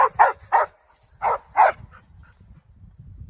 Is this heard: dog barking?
yes